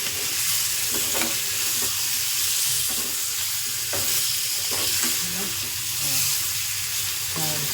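Fish frying in a pan sizzles with a loud, steady hiss while being stirred, with a few soft scrapes and knocks of the utensil breaking through the constant crackle.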